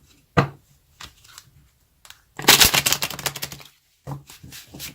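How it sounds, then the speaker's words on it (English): A deck of tarot cards is shuffled in one brisk riffling burst, with a few softer taps and card handling sounds before and after, close and fairly quiet. "Doesn't want to shuffle."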